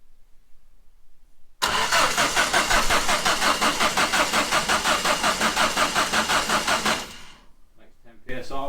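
A turbocharged car engine cranks in a loud, steady, rhythmic churn for several seconds, close by, then stops before a brief restart.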